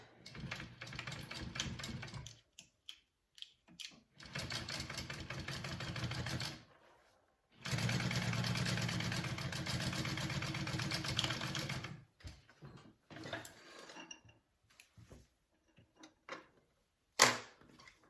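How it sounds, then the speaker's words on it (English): A sewing machine top stitches a piece of fabric onto a circle bag. It runs in several sustained bursts separated by short pauses, followed by quieter intermittent mechanical clicks and a single sharp tap near the end. "I'm going to do a top stitch on it"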